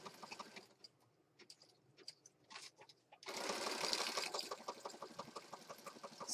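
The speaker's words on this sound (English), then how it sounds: "Stitching, stitching, stitching, stitching." Sewing machine stitching a junk journal, first in short, faint bursts with pauses, then a steady, louder run of rapid mechanical stitching.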